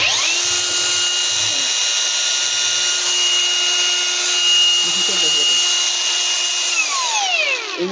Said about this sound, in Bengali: ব্যাটারি চালিত গ্রাইন্ডিং মেশিন